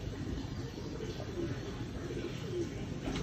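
Soft Sialkoti pigeon coos, a couple of low murmuring calls over steady background noise.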